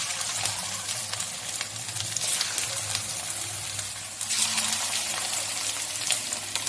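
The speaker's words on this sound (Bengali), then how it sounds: "এবার কড়াইতে সাদা তেল গরম করতে দিয়েছি, দিয়ে এবার এই পকোড়াগুলো ভেজে নেব" Chicken pakoras sizzle in hot white oil in a wok, a dense continuous frying hiss with bursts of louder crackle as pieces cook.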